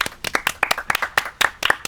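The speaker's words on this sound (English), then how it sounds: "Can we get a round of applause for that?" A few people on a podcast give a short round of applause: sparse, sharp hand claps close to the microphone, irregular and lasting under two seconds.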